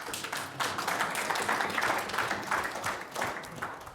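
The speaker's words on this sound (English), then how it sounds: "Thank you for the claps." A conference audience applauds at a talk on building a microservice with Kotlin, Micronaut and GCP, a dense burst of many hands clapping that holds steady for a few seconds and fills the room.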